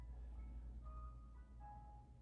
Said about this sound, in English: as you can hear, the ice cream truck is in the background